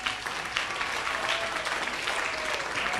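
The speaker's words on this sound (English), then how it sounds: "if you could give her a big round of applause" An audience at a network marketing talk gives a sustained round of applause, a steady wash of many hands clapping without a break.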